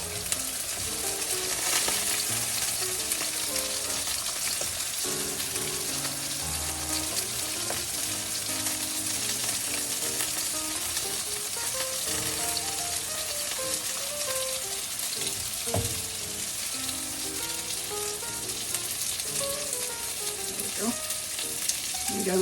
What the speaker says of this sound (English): Let's put our zucchini. Cooking zucchini.